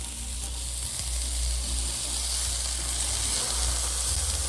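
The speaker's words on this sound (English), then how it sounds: "So you want your patties to cook evenly, so I flip it over." A turkey burger patty sizzles in a hot pan just after being flipped, giving a steady close hiss of frying with a low rumble under it and no talking.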